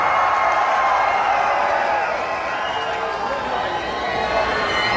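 A live hip-hop concert crowd at a 2019 show in Salt Lake City, Utah, roaring and cheering loudly and continuously, a dense wall of voices filling the whole stretch.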